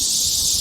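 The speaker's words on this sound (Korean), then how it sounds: "엄청난 소음 같은 매미 울음소리" Cicadas sing loudly in a dense, continuous high-pitched buzzing drone, steady and close, with no voices.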